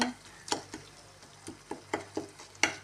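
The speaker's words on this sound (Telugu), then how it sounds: "ఇంకా కొంచెం టమాటాలు ఇంకా బాగా వేగాలి" Tomatoes fry quietly in a pan for carrot bhaji, with a soft sizzle under a series of sharp spatula scrapes and taps as they are stirred.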